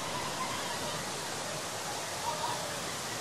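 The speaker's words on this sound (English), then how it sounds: "Here's some waterfalls here at Gilroy Gardens." Waterfalls at Gilroy Gardens make a steady, hissing rush of falling water, an even broadband roar that stays constant and fairly close throughout.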